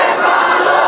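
Massed voices of a sermon audience shout Allahu Akbar together in answer to a takbir call, a loud, full-throated, unified cry that fills the whole brief moment.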